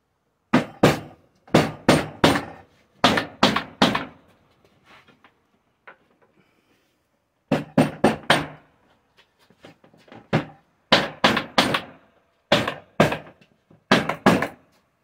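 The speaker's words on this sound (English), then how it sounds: "So we're gonna go ahead and hammer this piece in here." Sharp wooden thuds of a hammer driving a board into place during a cargo trailer RV conversion come in quick bursts of three or four blows, separated by short pauses, close and loud.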